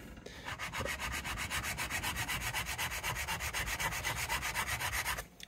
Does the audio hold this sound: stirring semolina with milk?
no